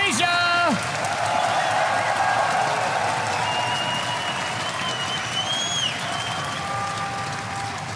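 Crowd at the DreamHack Winter 2013 esports grand final cheering and applauding in a loud, sustained wash of clapping and shouting, with brief electronic tones from the game rising above the roar.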